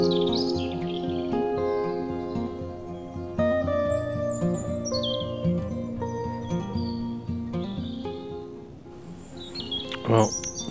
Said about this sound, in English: About half an hour there of just standing and listening to the birds singing